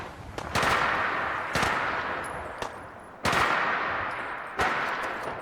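Gunfire in the video game Fallout 4, with about five sharp, loud shots spaced unevenly and each trailing into a long echoing decay.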